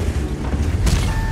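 A tank's main gun firing in the World of Tanks video game: a sudden heavy boom cuts through a constant low engine rumble and battle noise, followed by a sustained blast tail.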